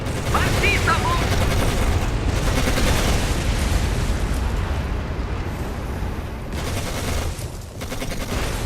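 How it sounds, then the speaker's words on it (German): Dense, sustained battlefield gunfire and explosions in the World War II tank video game Codename: Panzer, with rapid shots and booms filling the whole stretch loudly and continuously. "Man schießt auf uns!"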